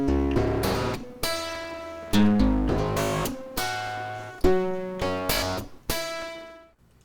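A plucked, piano-like melodic phrase run through a Rectify distortion plugin, gaining a buzzy, harmonically dense edge; a handful of sharp note attacks each ring and decay, moderately loud and close, with no voices.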